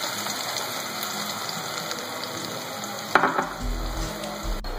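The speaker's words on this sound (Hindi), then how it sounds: "बस थोड़ी देर प्याज को फ्राई करना है।" Chopped onions and black cumin frying in oil for mutton kunna: a dense, steady hiss of close sizzling, broken about two-thirds through by a sharp utensil clatter and a low rumble.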